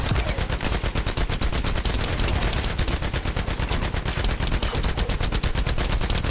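Rapid continuous bursts of a beam weapon firing in The First Descendant, loud, dense and rhythmic like sustained machine-gun fire, running without pause for the whole stretch with no talking.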